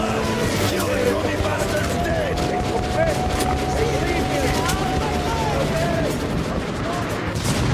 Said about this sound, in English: Except instead of a flamethrower, that guy has a minigun.